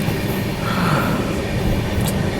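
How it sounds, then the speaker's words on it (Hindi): A Duronto express train with LHB coaches rumbles past on the rails, a loud, continuous roar with rattling and clatter throughout and no voices. "यस दुरंतो है, ट्रेन नंबर से पहचाना और LHB कोड से।"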